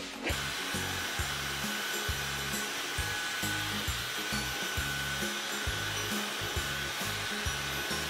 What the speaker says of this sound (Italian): qui c'è scritto di andare adesso ad asciugare i capelli completamente, quindi questo è quello che faremo